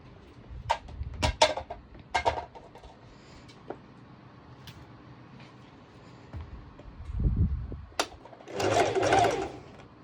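A sewing machine works on the bust of a lycra bandeau swimsuit. Scattered clicks and thumps of handling come first, then short low whirring runs, and a brief fast burst of stitching comes near the end.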